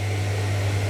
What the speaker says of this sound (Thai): โอ้ ปั๊มน้ำเลย